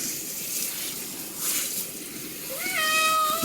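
A pet cat being bathed at home gives a drawn-out, plaintive wail that rises near the end over steady running water.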